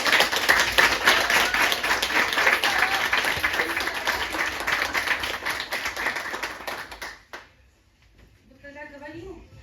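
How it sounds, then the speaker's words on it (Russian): An audience at a school graduation and certificate ceremony for an eleventh-grade class in Ukhta, Komi Republic, claps in dense, sustained applause for several seconds. The applause then fades out and a voice speaks briefly. "второй маме, аплодисменты"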